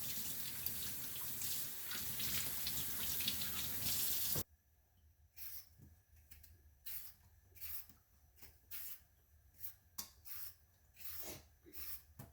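Seeded jalapeno peppers rinsed under a running tap: a loud, continuous spray of water for several seconds, then the flow stops and scattered wet rubbing and handling sounds follow close by.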